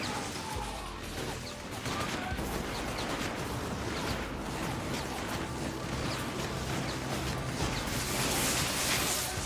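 A rocket explosion in a video game bursts out amid continuous gunfire and battle noise, loud and dense throughout with layered blasts and crashes.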